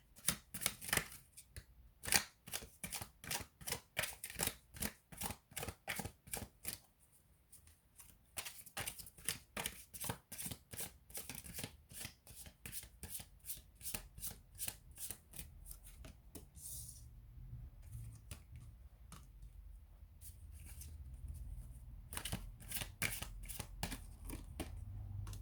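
Tarot cards are shuffled in a steady run of crisp, rapid riffling and slapping strokes, close and fairly quiet, with a brief lull partway through and no talking.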